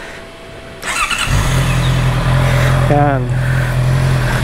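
A four-cylinder Honda CB650R motorcycle fitted with an ARG Racing exhaust starts and settles into a steady, close idle, with a brief blip of revs, while someone speaks over it.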